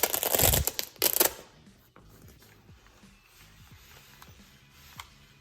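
A keyboard carrying case for a full-size Keychron K1 low-profile keyboard is handled and opened, starting with two loud rustling, scraping bursts and then trailing into quiet clicks and light shuffling.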